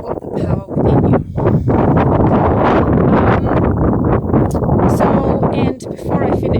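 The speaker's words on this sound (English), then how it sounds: "it's a bit windy, hopefully you can hear me actually" Heavy, gusty wind by a river buffeting the microphone, a loud low rumble nearly throughout with a few brief lulls, with a voice speaking underneath.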